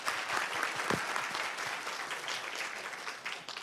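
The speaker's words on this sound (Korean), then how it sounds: "큰 박수로 모시겠습니다" An audience at a youth town hall meeting applauds to welcome a speaker, with dense, steady clapping from a crowd that tapers slightly toward the end.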